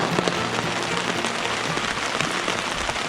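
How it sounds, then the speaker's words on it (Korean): Heavy rain pours onto a Hilleberg solo tent pitched on a mountain ridge during a backpacking trip, a dense, steady, loud drumming heard from inside, with no voices over it. "지금 텐트 설치하고부터 그냥 막 엄청나게 지금 비가 쏟아지고 있거든요"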